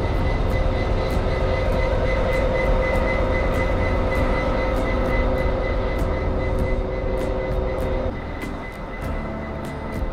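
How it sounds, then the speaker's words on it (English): Train engine at Cork station in Ireland: a loud, steady diesel rumble with a droning hum and regular clicking, easing slightly toward the end. "I'll show you the train, the engine that we always used to enjoy"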